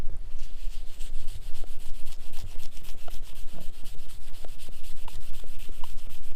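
A rag wipes water spot remover, which carries a little grit, back and forth across a car's paint, giving a steady, close rubbing sound that continues without a break and with no talk.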